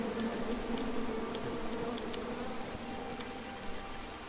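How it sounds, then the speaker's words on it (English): Bees buzzing in the King's Quest video game, a continuous droning hum with no talking. "Come at me, bees!"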